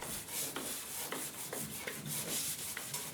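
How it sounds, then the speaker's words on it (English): Rhythmic hand sanding on a catamaran hull, a steady raspy rubbing with regular back-and-forth strokes, close and fairly quiet. "the main purpose with the manual sanding is to soften down the sides"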